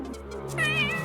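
A house cat meows once, close and clear, with a rising then falling wavering cry.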